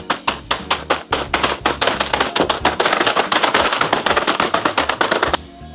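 A bag of frozen hash browns is smacked and broken apart in a kitchen, giving a steady run of loud, crunchy taps and thumps that speed into a dense rattle before stopping abruptly.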